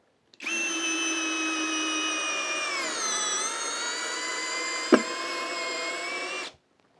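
A Hyper Tough drill/driver drives a screw, its motor whining steadily for about six seconds with a slight pitch drop midway as the screw sinks, then stopping abruptly; close, loud and without talk.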